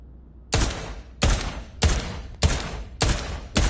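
Six loud, close gunshots ring out at a steady rhythm about two-thirds of a second apart, each with a sharp crack and short decay, at a WW2 shooting range in the VR game Pavlov VR.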